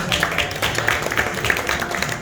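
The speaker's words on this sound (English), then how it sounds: "please give us a round of applause" Audience at a credit union event clapping, a short burst of scattered hand claps from a modest crowd, fairly close and steady across the moment.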